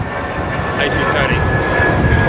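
Jet engines of an Airbus A330 airliner roar in a continuous, loud broadband rush at an airport, with a voice faintly audible beneath the engine noise.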